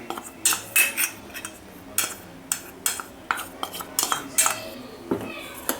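A utensil stirs half a cup of cocoa powder into melted butter in a pan, giving repeated close scraping and clinking bursts in an uneven rhythm, with no talking.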